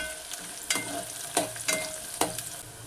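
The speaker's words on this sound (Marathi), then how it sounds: "कांदा, चांगला परतून घ्यायचा आहे कांदा" Onion sautés in a pan for homemade chole bhature, with a soft sizzle underneath and several distinct spoon scrapes and clinks at irregular intervals, close and moderately loud, with no voices.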